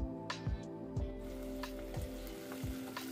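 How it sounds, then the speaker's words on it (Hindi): Roughly cut onions and green chillies fry in a kadai for a restaurant-style matar mushroom curry, giving a steady close sizzle punctuated by several sharp clinks of stirring. "हरी मिर्च और रफली कट किए हुए प्याज भी ऐड करेंगे और अब हम इन्हें अच्छे से सॉफ्ट होने तक पकाएंगे।"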